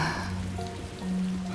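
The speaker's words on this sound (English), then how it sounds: "Wait, you're making it rain again?" Rain falling in the Master Detective Archives: Rain Code video game, a steady hiss of rain on surfaces with soft droplet patter and faint tonal game ambience, continuous and even.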